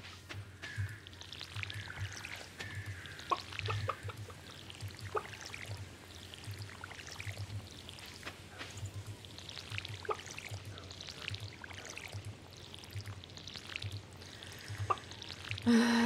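Hand-watering single crop plots with a watering can on a small farm in Stardew Valley: repeated short splashing pours and droplet patter, moderately loud, over a steady low background hum with no talking.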